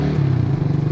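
A motorcycle engine runs loud and close as it shifts gears without the clutch, a low steady drone with a slight rhythmic pulsing.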